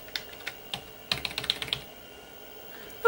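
Keys tapped on a Sega TeraDrive Model 3 computer keyboard: a few spaced clicks, then a quick burst of several keystrokes, close and crisp, followed by quiet and no speech.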